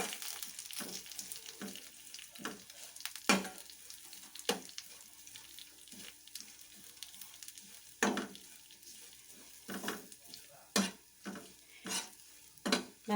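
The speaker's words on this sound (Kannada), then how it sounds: "ಈಗೇನು ತೆಂಗಿನಕಾಯಿ ತಗೊಂಡಿದೆ ಅದನ್ನು ಇದಕ್ಕೆ ಹಾಕ್ಕೊಳ್ತೀನಿ, ಅದನ್ನು ಕೂಡ ಫ್ರೈ ಮಾಡ್ಕೊಬೋದು" Grated coconut fries in chicken masala for a Chettinad chicken gravy, a steady sizzle broken by frequent loud scrapes and clanks of a spoon against the pan as it is stirred; no talking.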